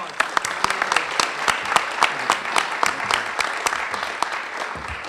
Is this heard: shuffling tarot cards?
no